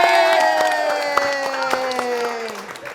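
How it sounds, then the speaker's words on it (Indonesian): Crowd applause and cheering rise at a lively Indonesian TV variety show, loud and sustained, with shouts and a strong musical tone running underneath throughout. "tepuk tangan buat Molly."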